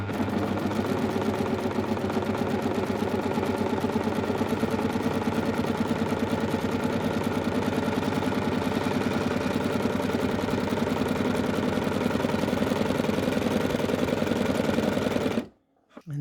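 Serger sewing a rolled hem with two needles, running in one continuous, steady mechanical whir close by for about fifteen seconds before stopping abruptly, with no talking.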